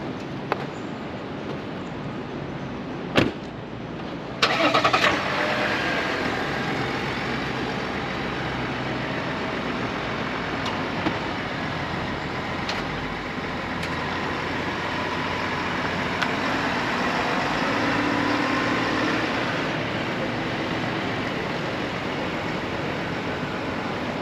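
A four-wheel-drive diesel Chevy Z71 pickup truck engine turns over with a few clunks, then settles into a steady, rumbling idle that continues for a long stretch.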